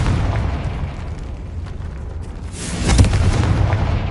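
A Confringo fire spell exploding in Hogwarts Legacy, a low rumbling blast building to a sharp loud burst near the end over a steady roar.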